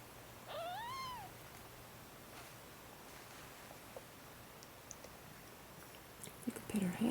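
A cat giving birth lets out one soft, drawn-out meow against a quiet background. Faint rustling and small movement sounds follow.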